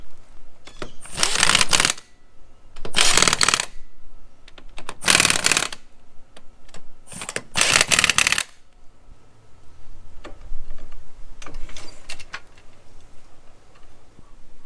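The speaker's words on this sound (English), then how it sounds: "I know it's a chrome socket on the impact" An impact wrench with a thin-wall chrome socket rattles in several loud bursts of hammering, about a second or two each, while clearing space for bigger tires on a Nissan Armada.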